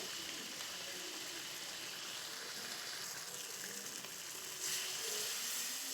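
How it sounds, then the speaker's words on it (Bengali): Broad beans, spring onion and tomato fry with spices in a pan. A faint, steady hiss of sizzling runs without a break, with a slight swell near the end. "সিম, পেঁয়াজকলি, টমেটো এইভাবে কিন্তু খুব সুন্দরভাবে মশলার সঙ্গে কষিয়ে নিতে হবে।"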